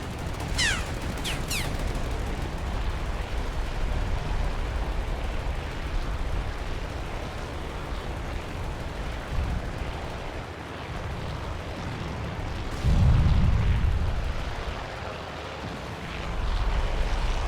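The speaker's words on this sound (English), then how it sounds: "Try and get a little closer to see these incoming explosions and such." Incoming explosions boom through a naval battle in the video game Task Force Admiral, forming a dense, continuous rumble of distant blasts with a heavier low burst near the end; no one speaks.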